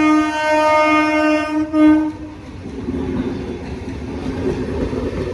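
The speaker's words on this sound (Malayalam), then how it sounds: "ഇതാണ് പഞ്ചാബിലെ ട്രെയിൻ." A train in Punjab blasts a loud, sustained horn, then its cars rumble past in a steady roar.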